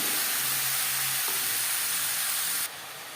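Bottle gourd tipped into hot oil tempered with cumin and fried chillies, giving a steady broadband sizzle and hiss at close range that drops away sharply near the end, with no voices.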